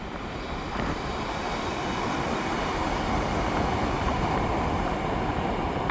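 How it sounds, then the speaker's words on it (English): A four-car REM light rail train runs on testing service across the new Mille Iles River Bridge between Laval and Montreal's North Shore. It gives a steady, broad rumble and rush that holds evenly throughout at a moderate distance. "Four-car train."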